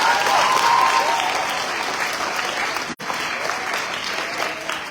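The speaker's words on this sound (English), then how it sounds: "Give yourself a warm round of applause." Students in a crowd at a Freedom Day programme on the Cape Flats clap steadily, a dense sustained applause that holds at fairly even loudness with one brief dip.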